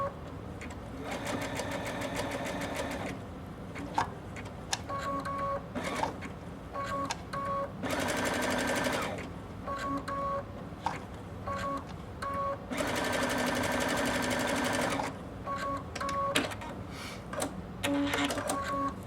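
A sewing machine satin-stitches applique, whirring in long, steady runs broken by short stops and pivots, with rhythmic stitching pulses close by throughout.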